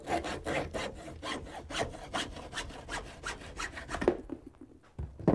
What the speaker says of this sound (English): I just use a hacksaw here.